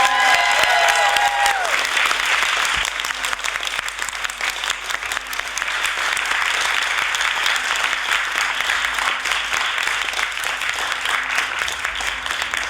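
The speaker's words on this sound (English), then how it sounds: "So let's give them a round of applause." Audience at an international conference closing ceremony gives a sustained round of applause, dense and even clapping from a large crowd that carries on steadily throughout.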